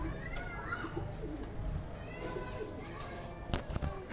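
Shahjahanpuri pigeons coo softly and repeatedly in the background while someone talks nearby, with light handling noises and faint ambient clatter.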